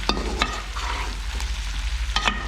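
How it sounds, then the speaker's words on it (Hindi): Tomatoes for chicken karahi cooking in a pan over a low flame: a soft, steady sizzle broken by a few sharp clinks and scrapes of a spoon, close by. "तो मैं इसको रख देती हूँ पकने हल्की आंच पे, ताकि ये टमाटर नरम हो जाएं"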